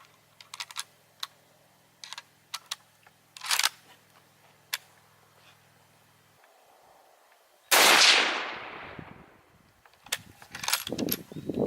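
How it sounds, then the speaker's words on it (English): Mechanical clicks of rifle handling precede a single loud, close shot from an 8mm Mauser Yugo rifle fired through a chronograph, followed by more clicks and rattles. "we'll just shoot 3 rounds out of each rifle from right here behind the table through the chronograph"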